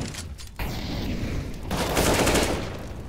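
Rapid automatic gunfire in a Counter-Strike style competitive shooter match, dense overlapping bursts of shots that swell louder toward the end, heard close with no voice over it.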